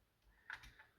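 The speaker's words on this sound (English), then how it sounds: "So that will just click in place." A 3D printed airsoft magazine cage housing for a PPK20 snaps into place, a single sharp, close click at the very end after a few soft handling taps.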